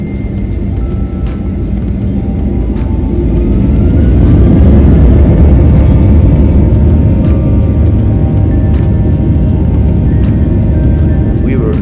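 A loud, steady jet engine roar builds and holds during a Norwegian Boeing 737-800 takeoff, deep rumbling filling the cabin with a constant droning intensity.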